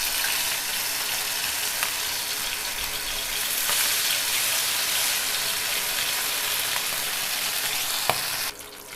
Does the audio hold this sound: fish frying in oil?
yes